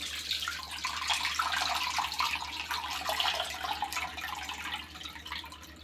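Tamarind water pours and splashes steadily for several seconds, bright and close, easing off slightly toward the end, with no one speaking.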